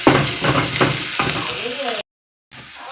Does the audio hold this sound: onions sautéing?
yes